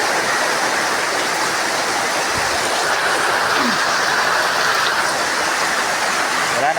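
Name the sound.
rain on a rainy afternoon in Kidapawan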